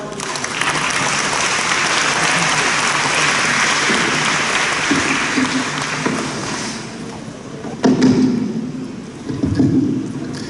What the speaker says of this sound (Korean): 목사님 나오실 때 큰 박수 부탁드립니다.